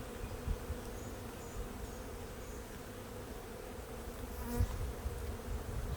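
Honeybees and drones buzzing around an open hive frame during split-making, a dense continuous hum close by with a few brief bumps and knocks.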